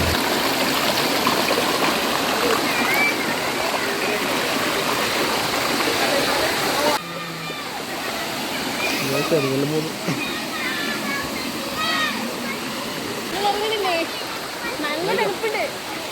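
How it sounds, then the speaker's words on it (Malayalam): A small waterfall at Gunung Pulai in Johor, Malaysia, rushes and splashes continuously at close range, a steady broadband roar that shifts slightly in tone partway through. "ഇതാണ് ഇവിടുത്തെ ചെറിയ വെള്ളച്ചാട്ടം"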